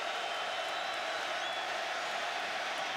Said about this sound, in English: And the crowd getting into it.